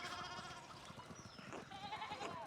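Sheep bleating in the medieval-set video game Pentiment, with wavering calls rising over a steady layer of farm ambience, close and moderately loud with no talk.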